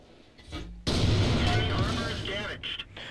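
An artillery shell striking a tank in World of Tanks lands as one sudden loud blast, followed by a sustained crackling rumble that slowly fades, with a voice speaking over it.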